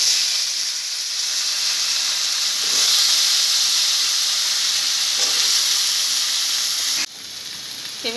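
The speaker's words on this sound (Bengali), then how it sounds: "এবার আমি পেঁপেটাকে ভেজে নিচ্ছি।" Pieces of papaya fry in a hot oiled pan for a home-style Bengali dish, giving a steady, loud sizzle and hiss that lasts throughout and briefly drops in level near the end.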